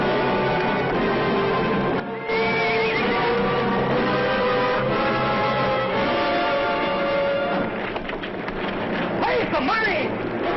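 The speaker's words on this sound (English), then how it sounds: "Come on, get on your horse." A horse whinnies and neighs in a 1957 Western film scene, the calls rising above dense, wind-like background noise and talking voices throughout.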